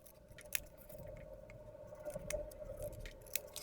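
Scissors trimming a paper sticker for a toy pinball machine, with small close snips and soft paper rustling over a faint steady hum, no voices.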